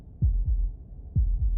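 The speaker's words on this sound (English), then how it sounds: "That was the sound of a heartbeat," A heartbeat sound effect in the video game Save the Princess: two pairs of deep, loud lub-dub thumps in a steady, slow rhythm, standing alone against a low hum.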